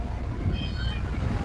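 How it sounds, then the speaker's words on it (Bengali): An engine-powered boat passes on Hatirjheel lake, its low steady motor rumble and water wash holding even throughout, moderately close. "ইঞ্জিনের নৌকা আপনার দিকে যাচ্ছেন।"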